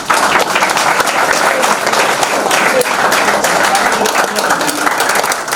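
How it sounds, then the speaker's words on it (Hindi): Loud, steady applause from students at a coaching centre, many hands clapping continuously and close for the whole stretch, celebrating a student's result. "इसमें तालियां बज रही हैं एक छात्रा के लिए"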